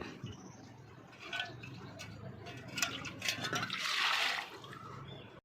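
Water splashes and gushes as it is poured off soaked dried anchovies, swelling into a louder rush near the end, with faint background noise.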